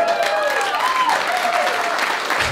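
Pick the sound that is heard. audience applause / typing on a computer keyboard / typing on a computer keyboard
audience applause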